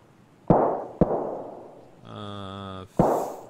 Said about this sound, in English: There's gunshots everywhere.